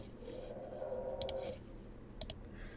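A computer mouse clicks during a software tutorial for a VTuber model, two quick pairs of crisp clicks about a second apart over a faint background hum.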